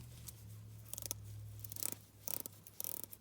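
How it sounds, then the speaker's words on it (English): The bezel of a vintage 1980s Rolex diver's watch turns in clusters of small, crisp ratcheting clicks, close and faint, over a low steady hum, arriving in several short bursts. "The Rolex here has a 120 click bezel."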